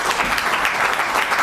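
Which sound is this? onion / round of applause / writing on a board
round of applause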